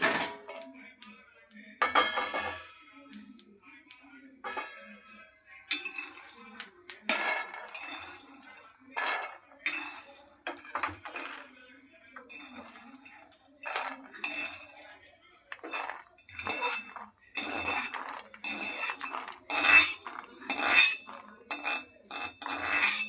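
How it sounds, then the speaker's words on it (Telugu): Roasted peanuts are scraped and tipped from a pan onto a plate in a steady series of clinks, scrapes and rattling taps, close and fairly quiet, with faint bursts of noise between. "ఇప్పుడైతే ఈ పల్లీలు వేరే ప్లేట్లో తీసేసుకోవాలి."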